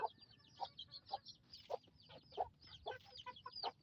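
Darag native chickens, young birds about six months old, cluck in soft repeated calls, fairly faint, in an uneven rhythm of short clucks with no talk over them.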